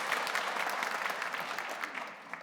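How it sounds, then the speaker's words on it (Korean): A church congregation applauds in welcome during a Sunday worship service, a steady, dense wash of clapping from many hands that holds evenly throughout and tapers slightly at the end. "우리 박수로 환영하도록 하겠습니다."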